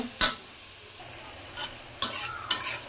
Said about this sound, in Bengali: এখন ভালো করে মশলাটা ভাজা নিব